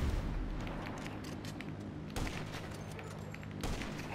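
Rapid gunfire in the GTA Online video game, aimed at an aircraft's propellers, rattles on continuously under an engine drone, with a few heavier bursts breaking through.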